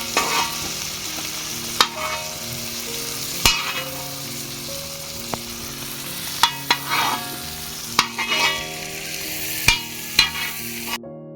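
Prawns frying in a pan for an Odia-style chingudi recipe, a steady close sizzle broken every second or two by sharp clinks and scrapes of a stirring spoon against the pan, with no talking.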